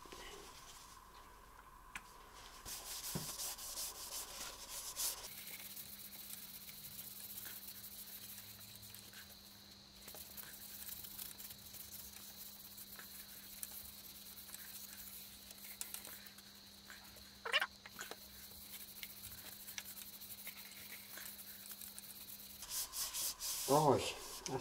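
Soft rubbing and hissing as sanding sealer is applied to a spinning wood potpourri bowl on a lathe, a steady lathe hum underneath, with occasional scrapes.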